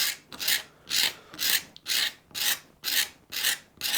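A utility knife blade scrapes across wood in a firm, even rhythm, about eight or nine rasping strokes with short pauses between them, close and clear with nothing else heard.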